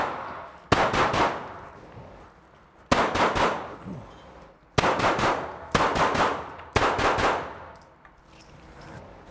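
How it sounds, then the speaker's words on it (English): Pistol fitted with a Micro RONI kit and Vortex Venom sight fires at targets in four quick three-shot strings, each burst a sharp, loud crack followed by a short pause. "let's go ahead and do three shots per target"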